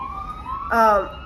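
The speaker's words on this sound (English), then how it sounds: "Lots of sirens today." A brief siren wail rises and falls, briefly louder near the end, heard at a moderate distance.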